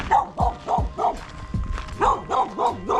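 A dog barks repeatedly in short bursts, fairly close, with a few sharper yips between the barks.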